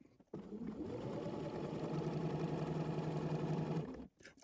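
A sewing machine runs steadily while stitching a pintuck on a garment, a continuous motor whir with a fast mechanical needle rhythm lasting about four seconds, then stopping abruptly; no talking.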